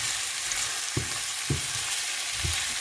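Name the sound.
seasoning sauteing in oil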